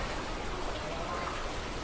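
Steady rain falls on a flooded lake area, a dense continuous broadband hiss with no clear individual drops, holding evenly at moderate loudness throughout.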